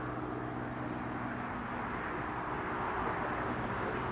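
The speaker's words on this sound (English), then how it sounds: "JetBlue A321 from Amsterdam to New York." A JetBlue Airbus A321 airliner, bound from Amsterdam to New York, passes overhead near Newcastle Airport as a steady, broad engine roar that swells slightly toward the end, with no talk.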